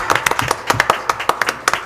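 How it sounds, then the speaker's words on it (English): Girls give their parents a round of applause: close, brisk clapping from a small group, with sharp, slightly irregular hand claps over a couple of seconds. "I want y'all to turn around and you give applause to your parents"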